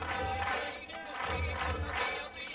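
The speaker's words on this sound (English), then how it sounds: "This crowd really enjoying what they're seeing from all the competitors" Crowd at a strongman deadlift event roaring and shouting in support, a dense, loud, continuous cheer with swelling bursts of voices across the whole short stretch.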